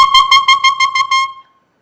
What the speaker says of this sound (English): When I play my reed attached to the mouthpiece, it sounds like this.